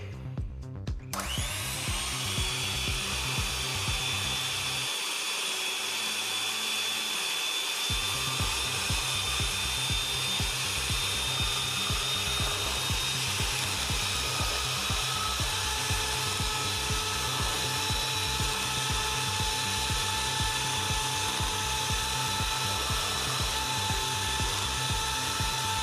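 Electric mixer whirring steadily through pancake batter, a continuous loud buzzing drone with a rhythmic low pulse and a brief dip partway through, no talking.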